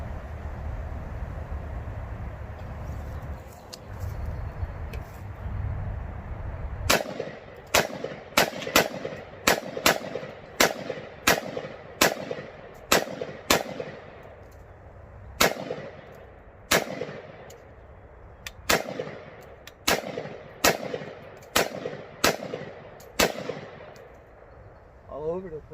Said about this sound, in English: I'm just going to check the functionality and make sure this gun works.